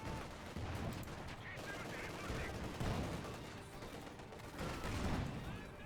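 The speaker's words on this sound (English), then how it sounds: "Constant fire from the Panther 4 Model J." Sustained cannon and machine-gun fire from a Panther Ausf. J tank in a Company of Heroes 2 battle, a dense continuous barrage with heavier bursts rolling through, loud and close, with a voice talking faintly over it.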